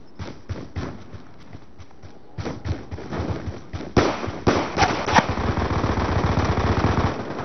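Rapid bursts of automatic gunfire in a first-person shooter game, fought on the Turbine map with dual B23R pistols, crack out in quick uneven volleys that grow denser and louder toward the end, with no talk over them.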